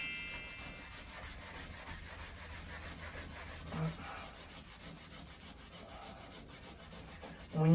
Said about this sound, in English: get a new scouring pad here and just do the same thing here